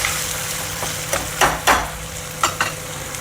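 Ginger-garlic paste frying in hot oil for a tomato egg fry, with a steady sizzle broken by several sharp scraping stirs of a spoon against the pan.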